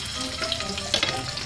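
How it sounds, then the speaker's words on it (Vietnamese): Sausages frying in a pan give off a steady sizzle with occasional sharper pops and crackles, close and fairly loud, with no talking. "Vào trong chảo để xoay bây giờ con sẽ bỏ hết xúc vào nha."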